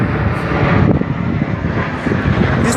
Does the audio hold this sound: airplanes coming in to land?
yes